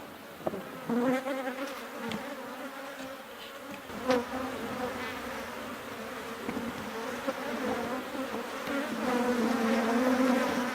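Honeybees buzz around an open hive in a dense, steady drone, with individual bees passing close now and then and the hum slowly swelling louder.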